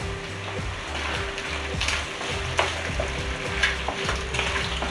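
Bacon sizzles and crackles steadily in a frying pan, a close, continuous fry with a low background hum and a few sharper pops.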